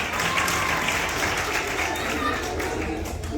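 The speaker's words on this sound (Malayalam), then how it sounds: "നല്ലൊരു ക്ലാപ്പ് കൊടുത്ത്, നല്ലൊരു ക്ലാപ്പ്." Children at a school puppet show clap together in a dense, continuous patter of applause that holds steady for several seconds.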